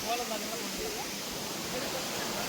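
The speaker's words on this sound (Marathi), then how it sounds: "समोर धबधबा" A waterfall roars ahead as a steady broadband rush of falling water, continuous and fairly loud, with a faint voice mixed in.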